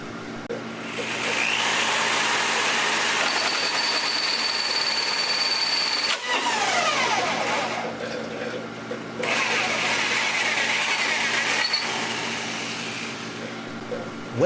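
A battery-operated drill boring a hole in a fish tank whines steadily in two long bursts, with a brief pause between them and a faint scraping of the bit against the glass.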